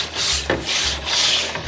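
A scrubby pad scours the grates of a RecTeq Trailblazer pellet grill, giving three long, close, rasping rubbing strokes with short pauses between them.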